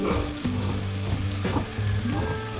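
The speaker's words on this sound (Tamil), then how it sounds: "காய வதக்கி மிளகாத்தூள் போடணும்" Turkey berries sauté in a pan with a steady, close sizzle and fry, broken by a few stirring scrapes, with no voices.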